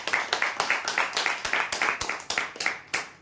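Applause for a lucky draw winner: a crowd clapping in a brisk, uneven rhythm of sharp hand claps, fairly close and steady throughout.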